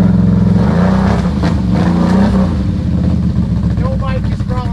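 A Can-Am off-road vehicle's engine revs loudly up close, its roar rising and holding, while people talk over it.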